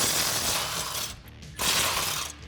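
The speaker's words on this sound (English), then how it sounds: "I'm going to be using a 16mm socket" A ratchet with a 16mm socket works a bolt loose on a Jeep Wrangler JL's rear bracket, giving a dense close-up clicking that pauses briefly midway and then resumes.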